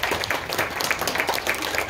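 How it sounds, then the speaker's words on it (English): An audience applauds a volunteer called up on stage for a card-trick magic act, giving brief, even clapping from a crowd that stays at a constant level. "Let's give Mike a round of applause"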